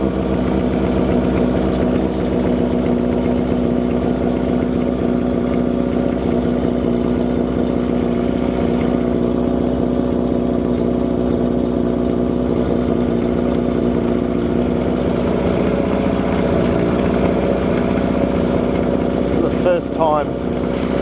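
Rebuilt Kawasaki Z750 motorcycle engine idling steadily up close, a continuous low throbbing rumble with a fairly even tone throughout, with brief voices near the end.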